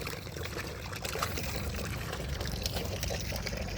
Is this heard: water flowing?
yes